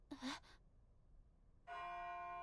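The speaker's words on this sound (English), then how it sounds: "And the bells." A short breathy vocal sound, a pause, then a sustained ringing bell tone with rich overtones that holds steady.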